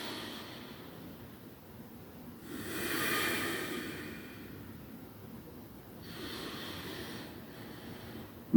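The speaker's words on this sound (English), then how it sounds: "Taking those deep breaths in." Two slow, deep inhalations drawn in through the nose during a breathing exercise, soft breathy hisses close by with a long quiet pause between them.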